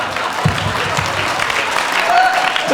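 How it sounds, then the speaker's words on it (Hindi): An audience at a Hindi poetry gathering (kavi sammelan) at a Jal Bihar fair claps in a dense, sustained burst that swells toward the end, loud and close, with some voices mixed in. "घनघोर तालियां"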